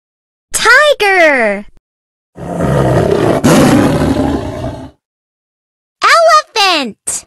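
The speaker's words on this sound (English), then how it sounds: "Tiger." Two roaring calls, likely a tiger, sound loud and close, with a long harsh growl between them. The calls have a clear wavering tone and rise and fall.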